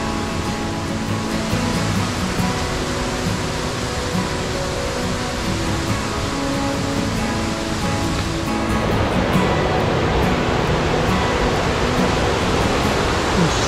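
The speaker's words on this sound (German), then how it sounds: "Der Pfad führt hier ein ganzes Stück am Bach bzw. den kleinen Wasserfällen entlang." A mountain stream with small waterfalls beside a hiking path in Tyrol, a steady loud rush of water that swells slightly louder toward the end.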